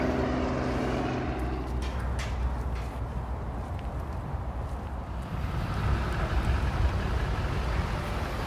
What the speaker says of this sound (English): A lot of sightseeing helicopters in this area.